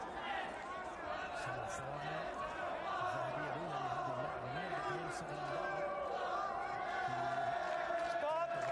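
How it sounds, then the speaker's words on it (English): A crowd at the Abu Dhabi World Masters Jiu-Jitsu Championship chants in unison, counting down the final seconds of a round. The loud, steady rhythmic voices ride over a noisy arena background with shouts. "you can hear the crowd behind Mubarak counting down the last 9 seconds of the round"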